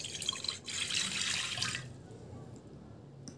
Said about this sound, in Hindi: बेकिंग के लिए मैंने ली है कढ़ाई के अंदर मैं डालूंगी पानी।